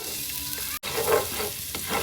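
Garlic and onion sauté in a pan for adobong kangkong, a close, steady sizzle with stirring scrapes and a brief break partway through.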